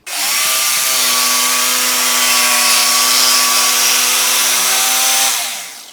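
A power saw cuts wood for a homemade wooden clothes hanger in a woodworking shop, giving one steady, loud, high-pitched whine that holds for about five seconds and then stops, with no talking over it.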